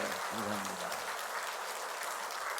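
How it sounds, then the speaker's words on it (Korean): A church congregation applauds its pastor at a fifth-anniversary Sunday service, a steady sustained wash of clapping filling the room, with a brief voice over it at the start. "피날 만큼 박수 한번 보내시겠습니다"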